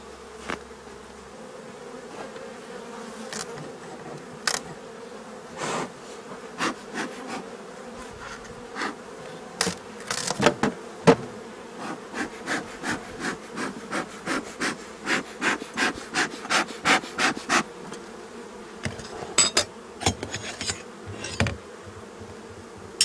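Honey bees hum steadily around an open beehive nucleus box during an inspection, with repeated close wooden knocks and scraping as frames are handled, and individual bees buzzing near and passing by.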